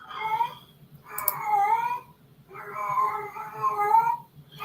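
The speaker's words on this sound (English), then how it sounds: "the cat does not sound That normal" A cat gives three long, drawn-out, wavering meows in close succession, loud and near, with short silent gaps between them and a faint background murmur.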